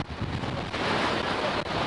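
Strong wind gusts on the Champs-Élysées near the Arc de Triomphe on a sunny day, roaring loudly and steadily into the microphone as a dense rushing noise.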